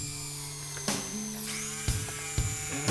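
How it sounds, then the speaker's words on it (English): An electric drill bores four holes through plywood while framing a speaker cabinet face: a steady, close, high-pitched motor whine with a few short louder bursts as the bit bites. "drilled 4 holes"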